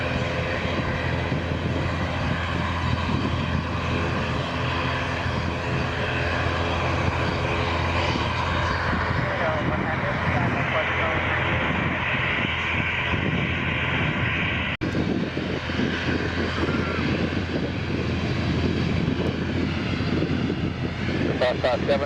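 A continuous loud roar of jet airliners at Lisbon airport, landing and taking off, heard from close by, with air traffic control radio chatter running over the steady engine noise throughout.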